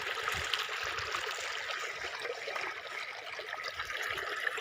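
Rubber boots wading through deep water that covers them, a continuous sloshing and swishing of water with soft, irregular splashes close by.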